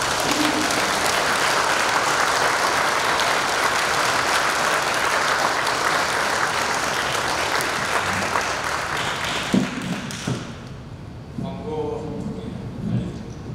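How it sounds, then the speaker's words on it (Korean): A lecture audience applauds its lecturer with sustained, loud clapping from a room full of people for about ten seconds. The applause fades, then a voice speaks alone. "여러분들 강사 선생님께 박수 한번 부탁드립니다."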